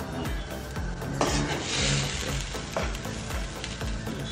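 Seasoning stirred into a simmering pot in a Barbados home kitchen: a steady, close sizzle and bubbling with a spoon scraping and clinking against the pot throughout.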